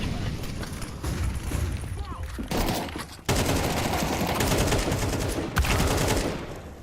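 Gunshots in Counter-Strike 2 on the Vertigo map, bursts of rapid fire and scattered single shots layered over in-game ambience, with a voice talking underneath.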